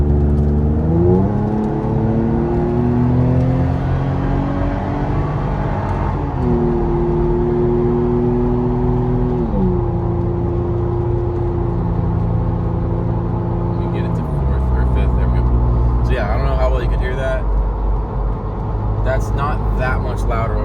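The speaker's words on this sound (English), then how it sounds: "I'm gonna give it the beans all this Tacoma has." A Toyota Tacoma pickup truck's loud, throaty aftermarket dual exhaust roars as it accelerates hard on a highway, revs climbing through several gear shifts, heard from close by.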